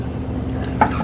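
A spoon scrapes through thick steak stew in a pot during one brief, close stir, with a single sharper knock against the pot near the end over a low cooking hum.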